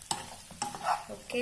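Chicken being stirred through a chilli flakes sauce in a hot pan, with a soft sizzle under scraping stir strokes and one brief spoken word.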